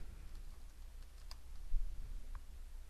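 Typing on a computer keyboard, scattered soft key clicks at close range with no talk over them.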